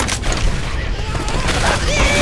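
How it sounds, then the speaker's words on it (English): Heavy gunfire in Left 4 Dead 2 roars close and loud, a continuous barrage of overlapping shots and booms filling the whole moment with a bit of whooshing chaos mixed in. "Why are you shooting me?"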